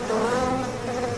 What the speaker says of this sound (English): Within seconds, the killer bees had found a new target.